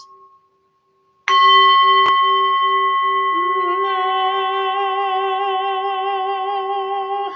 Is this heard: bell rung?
yes